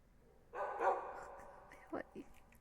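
Puppies in the Minecraft video game give a few short, bright yips and barks around a sustained tonal game sound, fairly close and moderately loud.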